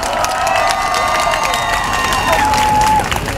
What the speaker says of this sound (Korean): 자 이어서 우리 중앙고 학생 대표로 소신 발언 박수 부탁드립니다